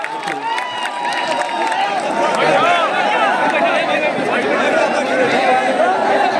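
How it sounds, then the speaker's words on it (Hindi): An audience at a job-seekers' meetup in Prayagraj cheers and chatters loudly as a guest is welcomed, a dense steady crowd roar with shouts and some clapping mixed in, sustained throughout. "बहुत तालियां"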